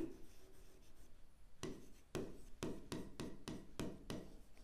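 Marker or chalk writing on a board during a class 9 algebra lesson, a run of short, sharp scratching strokes in quick rhythm, close and clear over a low room hiss, no voice.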